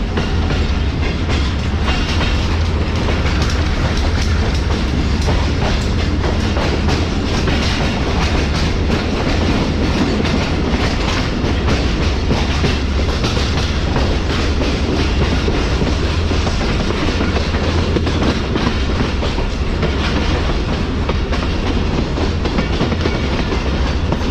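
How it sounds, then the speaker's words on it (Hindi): A Pak Business Express passenger train runs on rails under a speed restriction past Lahore Cantt station, a steady loud rumble with rhythmic clickety-clack of the wheels heard from inside the coach. "तो 50 किलोमीटर की स्पीड रेस्ट्रिक्शन के साथ ट्रेन हमारे स्किप करने जा रही है लाहौर कैंट रेलवे स्टेशन को"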